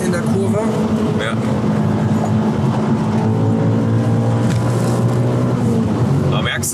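An Audi RS4 B7 engine hums steadily from inside the moving car, its pitch rising and falling with revs, under continuous conversation between occupants.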